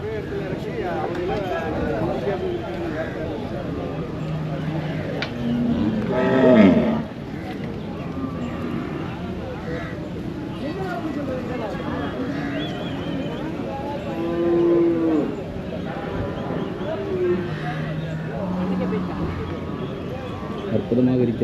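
Cattle low now and then amid the bustle of the Pollachi cattle market in South India, with a couple of clearer moos rising over constant nearby human chatter and general outdoor market noise.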